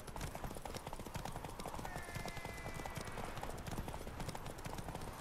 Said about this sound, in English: You're my horse, Roach